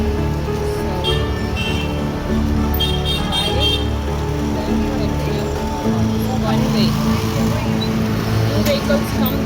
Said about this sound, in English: Vehicles come, there is no space here.